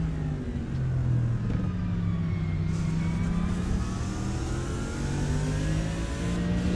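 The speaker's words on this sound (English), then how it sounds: "Lovely noise, isn't it? The V8 engine in the Mercedes." Mercedes V8 race car in an iRacing sim endurance race at Daytona, a continuous throaty engine roar with rising and falling revs as it shifts gears, steady and prominent with no voices.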